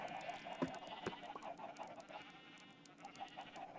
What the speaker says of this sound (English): sorry if the damn noise of the sheep